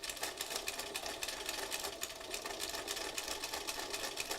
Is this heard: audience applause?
no